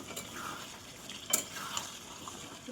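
Mutton curry is stir-fried in a pot until its water cooks off, giving a soft sizzle and quiet stirring scrapes with a single sharper clink partway through.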